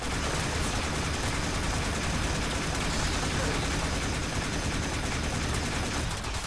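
Rapid sustained gunfire from the Boltor Prime in the video game Warframe, fired at a heavy gunner Eximus enemy, forming a dense, loud, continuous barrage of shots throughout with no pauses.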